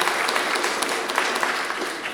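Audience applause at a panel on student of color activism, a steady dense wash of many hands clapping in a large room, continuous and fairly loud with no break.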